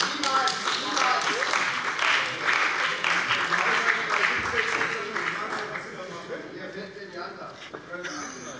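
Applause fills a German state parliament plenary session, a dense patter of many hands clapping at a steady level before tapering slightly toward the end, with voices heard among it.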